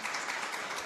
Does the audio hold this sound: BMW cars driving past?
no